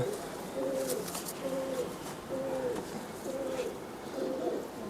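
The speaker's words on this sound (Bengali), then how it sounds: "এই দুটা আপনার ব্রিডার কবুতর?" A pair of Giribaz breeder pigeons, male and female, coo in a steady series of about five soft, rounded calls, close by over a faint background hiss.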